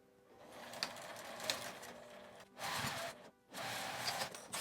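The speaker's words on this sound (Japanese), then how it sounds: "返し口を開けてこちらも1センチの縫い代で縫います。" A sewing machine stitches a 1 cm seam on a lined flat pouch, leaving a turning opening. Its quiet running hum comes in uneven stretches, louder in two sustained runs near the end with brief pauses between.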